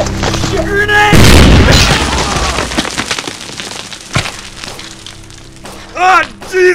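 Grenade blast in a shooter video game, a loud booming thud with a debris-like rumble that trails off, while players shout over it.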